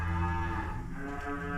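Cattle mooing loudly and steadily, a sustained low bellow that fills the whole moment, heard close by with no talking.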